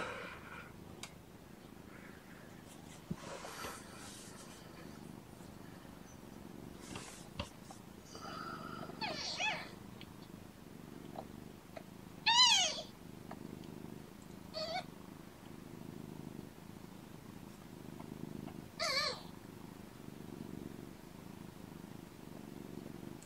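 Soft, steady purring from nursing kittens close by, with a few brief squeaky mews rising above the low rumble.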